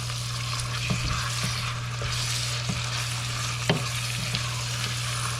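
Carrots and meat fry with onion in a pan, giving a dense continuous sizzle under a steady low hum, with repeated soft scrapes of a utensil as the mix is stirred up close.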